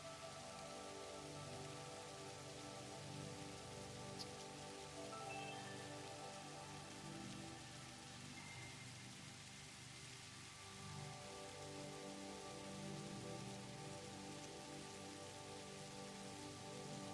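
Steady rain pours down during extreme weather in the Satisfactory video game, a continuous, even hiss of drops on surfaces with no break or voices throughout.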